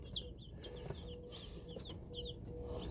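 Newly delivered Cornish cross meat bird chicks peep in quick, high, chirping bursts over a low background rumble, fairly faint and with no talk.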